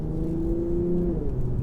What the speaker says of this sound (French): Hop, j'accélère. Bam. Et on a le moteur qui s'allume derrière